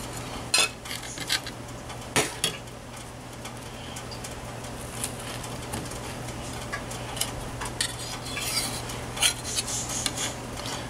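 A knife scraping and tapping against fish and a dish while working the flesh loose for bacalao, a series of small clicks and scrapes at irregular intervals over a steady low hum, close but fairly quiet.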